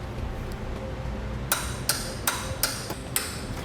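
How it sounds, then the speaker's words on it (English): A wrench clicks five times in a steady, evenly spaced ratchet rhythm while 6 mm cap head bolts are torqued down on Westin PRO TRAXX oval nerf bar brackets, the sharp ticks close over a quiet hum. "Now you'll also want to torque those down to the specifications in your instructions."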